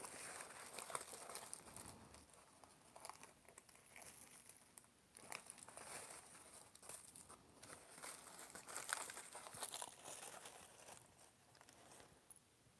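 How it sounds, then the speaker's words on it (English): Small pieces of homemade candy being worked and peeled off crinkly wax paper, giving faint, close, irregular crackles and rustles with no talking. "You kind of have to work it a little bit to get the pieces off of the wax paper."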